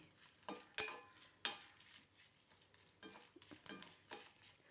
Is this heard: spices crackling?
yes